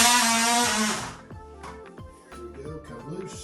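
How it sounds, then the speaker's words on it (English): Power tool cutting plastic wedges during a toilet installation, a loud buzzing whine at first that cuts off after about a second, followed by quieter clunks and handling noise. "So I'm going to go ahead and cut the plastic off."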